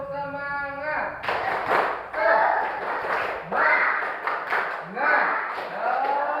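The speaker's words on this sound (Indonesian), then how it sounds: "Tepuk semangat." A classroom of students doing a patterned spirit clap, several rhythmic bursts of group clapping and chanting after a teacher's spoken lead-in.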